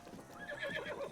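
Horse in the Zelda video game giving a brief, faint neigh lasting about a second, with a light wavering whinny over soft background game sound.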